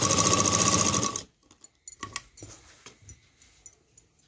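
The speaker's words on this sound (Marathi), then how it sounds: "तर जिथून शेप दिला होता त्याच्या बाजूबाजूने शिलाई मारून घ्यायची आहे" A sewing machine stitches along a blouse neckline in a loud, close, rapid whirring burst that stops after about a second, followed by scattered small clicks and handling noises.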